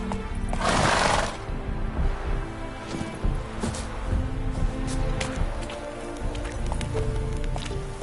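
Roach, Geralt's horse in The Witcher 3, gives a loud neigh early on, followed by a steady clip-clop of hooves trotting on the ground with faint ambient noise.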